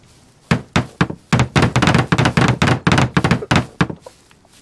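Axe chops into a large tree for wood in the video game SCUM, a steady run of about fourteen solid wooden thunks at an even rhythm, close and loud, with no talking.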